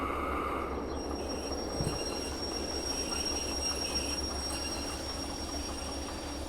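A train in the Derail Valley game rolls slowly backwards, a continuous low rumble of wheels on track with faint metallic squeal, steady and close throughout.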